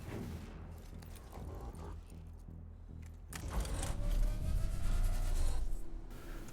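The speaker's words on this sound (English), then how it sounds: "check out who has enough cog points to fire the torsion cannon again" A torsion cannon fires in a Warhammer 40,000 video game. A quieter stretch of rumbling gives way midway to a heavier, booming blast that swells and lingers before fading.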